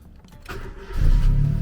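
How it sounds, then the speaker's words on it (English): A Honda Civic EK fitted with a GFB boost controller starts up: a starter whir builds into the engine catching, then a loud, steady low idle rumble fills the rest of the moment. "Now we can start the car."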